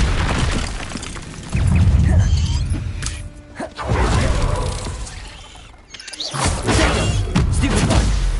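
The Incendio fire spell in Hogwarts Legacy: loud, dense whooshing and crackling bursts that rise and fall in several waves, with booming low rumbles beneath and brief dips between blasts.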